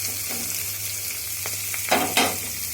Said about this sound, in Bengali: এই দেখুন এইভাবে একটু একটু করে নাড়াতে হবে, একটু একটু করে খুঁটিটি চালিয়ে নিলাম।